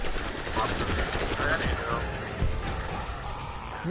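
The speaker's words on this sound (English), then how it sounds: "Who's shooting at me?" Rapid machine-gun fire from a handheld turret in a video game rattles loudly and continuously, dense and unbroken over the game's background noise.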